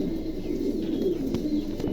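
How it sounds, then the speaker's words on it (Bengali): An adult pigeon at a pigeon seller's coos in a soft, low, continuous murmur close by, with faint background noise. "একদম নতুন নিউ অ্যাডাল কবুতর"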